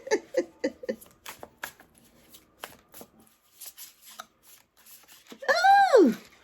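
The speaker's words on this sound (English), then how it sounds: "let's shuffle this again so we can get our second card" A deck of angel number cards is shuffled with a run of crisp riffling flicks, followed by a few scattered softer taps, then a louder sweeping rush of cards near the end, close up with no talking.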